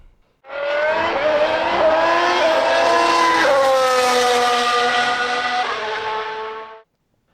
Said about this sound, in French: démarrez vos moteurs, c'est un départ